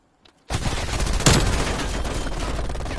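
Sustained SMG fire in a multiplayer shooter game, loud and continuous, starting abruptly after a brief quiet moment and rattling on without a break.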